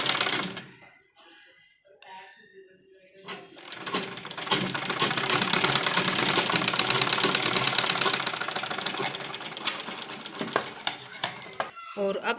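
An electric sewing machine stitching a folded dupatta edge, a loud continuous buzzing whir that starts after a few quiet seconds and runs steadily, close up, ending with a few clicks.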